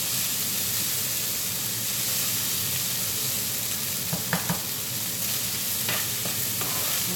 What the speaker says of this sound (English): and then let it just fry for a while